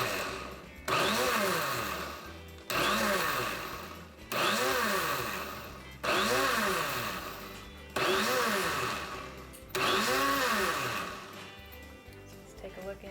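Goat's milk lotion mixture pulsed in a blender: five loud, close bursts of whirring motor, each about a second and a half long, with the pitch dropping as it winds down, separated by short pauses.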